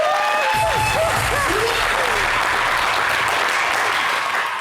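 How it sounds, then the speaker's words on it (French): An audience bursts into loud, sustained applause for guests, a full crowd clapping with a few whistles and voices rising over it. "On va applaudir pour nos invités."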